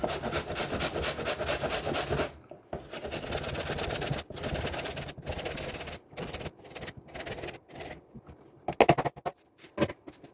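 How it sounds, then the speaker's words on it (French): An apple is coarsely grated by hand, giving steady rasping scrapes in long continuous runs that break into shorter, choppier strokes toward the end, close and without talking. "j'ai une pomme que je vais venir râper grossièrement"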